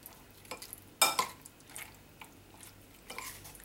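A spoon stirs a mayonnaise-heavy mixture in a bowl for a tiffin snack, making a few close, uneven scrapes and clinks against the dish with soft wet squelching between them.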